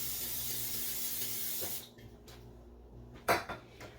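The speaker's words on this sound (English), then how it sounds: "I have some pan spray. Spray my pan and move these right on there." Cooking pan spray hissing steadily onto a baking pan for about two seconds, then a pause and a couple of light clanks of the pan being handled in the kitchen.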